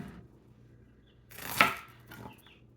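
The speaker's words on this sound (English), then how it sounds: "Okay, so chop. Try to do them kind of thin." A knife chopping kale thinly on a board gives one soft, close cut with a brief scraping rustle, then a fainter follow-up tap, quiet overall.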